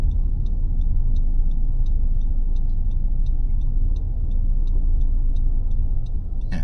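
A car drives and pulls into a front drive-in spot beside a gray car during a road test. A steady, loud cabin rumble runs under an even, rhythmic ticking like a turn signal. No one speaks.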